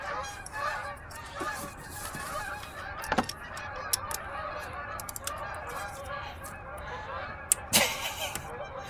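Flock of geese passing overhead outdoors, repeated nasal honks overlapping in an irregular chorus, moderately distant and fairly faint, with no talking.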